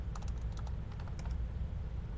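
Rapid, steady keystrokes on a computer keyboard as a terminal command is typed, a close run of clicky taps over a low background hum with no talking.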